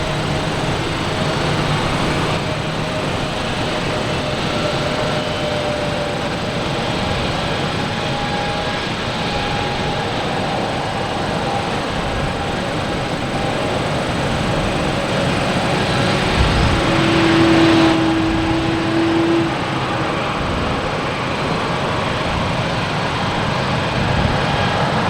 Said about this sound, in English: next to arrive is a A220 coming from JFK, flight 318